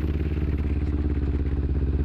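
A motorcycle downshifts on a neighborhood street, its engine a loud, close, steady throbbing rumble with a clattering edge for the whole short stretch.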